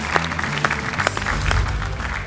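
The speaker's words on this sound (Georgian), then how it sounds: "ჟიურის წევრებო გავაცილოთ აპლოდისმენტები" A studio audience and jury on a Georgian comedy game show applaud, steady clapping filling the room at close range with a few louder claps, and no speech over it.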